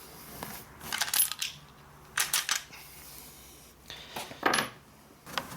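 The bolt of an M1 Garand rifle chambered in .30-06 is worked by hand, giving several sharp, close metallic clicks and clacks in short bursts with quiet gaps between them.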